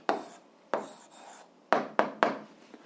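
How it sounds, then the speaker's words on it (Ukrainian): A pen or marker writes an answer on a board or paper in a few short scratchy strokes, about five quick bursts heard close with pauses between. "Ну що ж, записуємо відповідь, пишемо відповідь."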